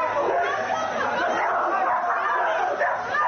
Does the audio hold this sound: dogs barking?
yes